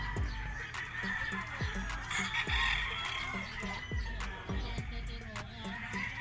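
Gamefowl stags at a game farm during a sale, with steady clucking and repeated crowing from many birds nearby, forming a dense, continuous barnyard chorus.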